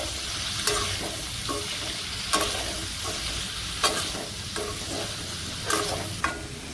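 Cauliflower curry frying in a thin steel pan, with a steady sizzle broken by regular, sharp scrapes and clinks of stirring, close and fairly loud.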